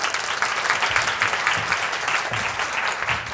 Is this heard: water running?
no